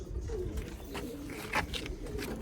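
Rare bloodline pigeons coo softly on a rooftop in Sialkot, a few low, brief calls against faint outdoor background noise, no talking.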